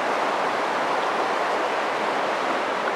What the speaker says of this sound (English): we're right next to a creek